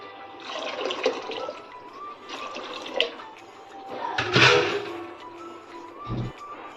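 Water pours into rajma in a pressure cooker with a steady splashing and trickling, close and moderately loud, followed by a couple of clunks near the end.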